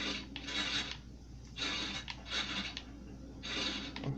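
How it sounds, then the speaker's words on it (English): Two brothers work a saw through a tree trunk in a video game, giving rhythmic rasping strokes in three long bursts with short pauses between, fairly close and with no talk. "Two bros sawing a tree down."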